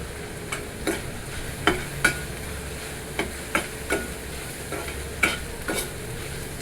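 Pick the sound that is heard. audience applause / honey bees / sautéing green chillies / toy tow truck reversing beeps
sautéing green chillies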